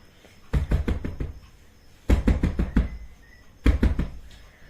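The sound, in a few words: door being banged forcefully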